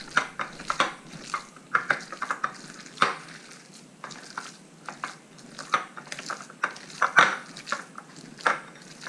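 Ground elk meat being mixed by hand with garlic salt and seasoning, giving soft, irregular squishing and patting sounds at close range with occasional sharper bumps against a bowl, no talking.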